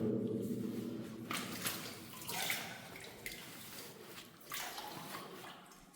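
Footsteps wade through knee-deep water inside a large underground bunker in Puthukkudiyiruppu, giving close, irregular splashing and sloshing surges with a few louder pushes through the water.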